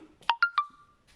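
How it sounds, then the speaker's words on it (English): A mobile phone ringtone in a workshop, three short bright electronic chirps in quick succession followed by a trailing tone, fairly close and alone without talk. "that's my phone"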